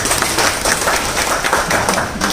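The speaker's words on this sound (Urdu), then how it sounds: "ضیاء میاں کی آمد پہ تالیاں ہو جائیں" An audience claps steadily and loudly to welcome a guest onto the stage at a religious gathering for a book launch. The applause is dense and continuous.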